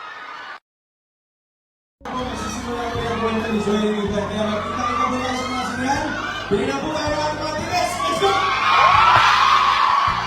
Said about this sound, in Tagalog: Grabe yung hiyaw.